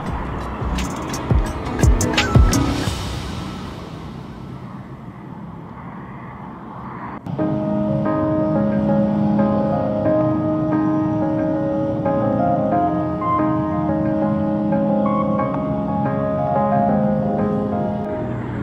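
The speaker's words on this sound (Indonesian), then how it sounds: "Jalanan saat itu ramai dengan lalu lalang kendaraan." Busy street traffic in Davao City, with cars and other vehicles passing steadily. A rough, fluctuating rumble fills the first seven seconds, then gives way to a denser, constant hum with sustained tonal layers.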